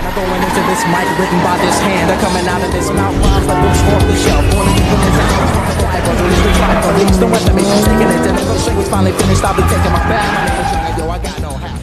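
A stolen Dodge Challenger drives off in a film scene, its engine roaring loud and close with tire squeal, mixed with music and people talking.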